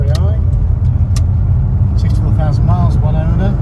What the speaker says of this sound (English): we'll take you up the road in this lovely second generation XR3i